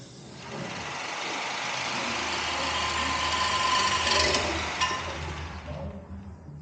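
A car engine runs loudly and steadily at Cleetus and Cars prep day, a broad roaring whoosh like a jet engine that swells toward the middle and eases off near the end.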